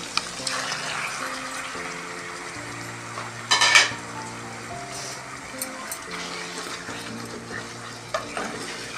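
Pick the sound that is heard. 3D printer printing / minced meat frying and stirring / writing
minced meat frying and stirring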